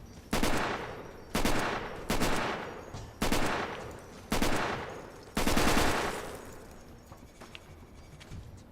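Rapid bursts of gunfire from Fallout 3 with New Vegas, armor-piercing rounds: six loud, sharp volleys spaced about a second apart, each decaying briefly, then a quieter tail.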